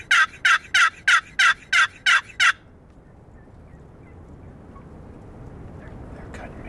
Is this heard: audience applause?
no